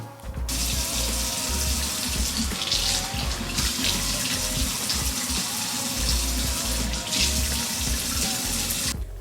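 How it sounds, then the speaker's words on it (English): Water runs steadily from a kitchen tap over cut peppers as their seeds are rinsed out for Korean stuffed pepper fritters, a continuous close splashing stream with small shifts as the peppers move under the flow. "Now I'm just going to rinse through them, so kind of get rid of all the seeds out."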